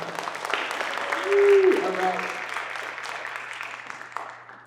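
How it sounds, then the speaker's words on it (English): An audience at a conference panel event breaks into applause, a steady wash of clapping heard under a speaker's voice, swelling briefly in the middle and then tapering off. "say a round of applause for Yesenia, everyone"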